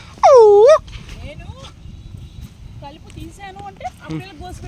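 One short, loud dog bark or yelp rises and falls at the start, followed by quieter mixed sounds and faint voices.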